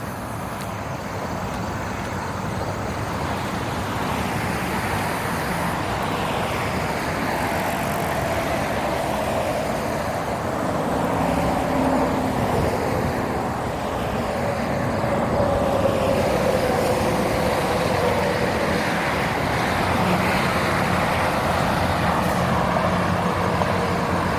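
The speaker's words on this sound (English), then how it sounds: "That's a little bit of truck traffic." Steady road traffic along a roadway next to the Grant's Trail Extension near River Des Peres Blvd, with truck engines rumbling as they pass at moderate distance, a continuous drone that swells gently without any talk.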